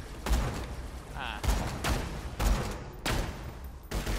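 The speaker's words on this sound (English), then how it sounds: "Okay, shoot his legs." Gunfire against a Volatile Crystalisk in Borderlands 2: repeated bursts of shots roughly every second, fairly loud, with game sound throughout.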